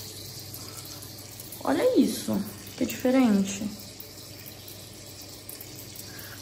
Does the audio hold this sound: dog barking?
no